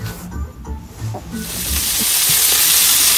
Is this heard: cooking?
yes